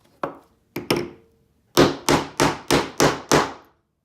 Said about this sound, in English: when you hammer it with the setter, it goes psh, and it attaches the 2 pieces